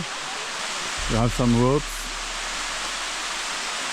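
Steady broadband rush of water at the Sticky Waterfalls near Chiang Mai, a continuous roar that fills the whole clip, with a short stretch of speech partway through.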